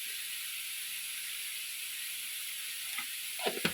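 Food sautéing in ghee for an Ashoka sweet, a steady bright sizzle and hiss throughout, with a few soft stirring clinks and scrapes near the end.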